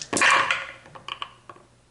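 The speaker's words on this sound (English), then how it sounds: "Rolling his 5 dice against us again." Dice rolling in a Shadows of Brimstone board game session: a loud rattling burst of several dice tumbling across a table, followed by a few lighter clicks as they settle, with no talk.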